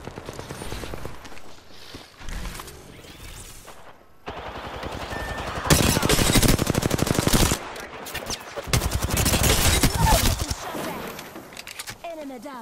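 Bursts of automatic gunfire and single shots from the Apex Legends battle royale game ring out loud and close in repeated volleys, with short pauses between them and a game character's voice heard at times.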